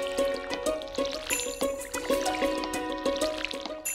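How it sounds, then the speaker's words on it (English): Watering crops in Stardew Valley, a game sound of pouring and trickling water repeated in quick, rhythmic bursts with bright dripping accents, steady and fairly loud. "I should water them first."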